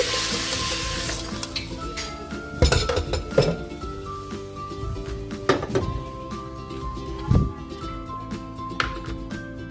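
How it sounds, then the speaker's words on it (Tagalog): Macaroni soup being moved into another cooking pot, with sizzling under bursts of scraping, clinking metal pot and ladle knocks at irregular intervals, close and fairly loud. "Lipat natin sa ibang kaldero."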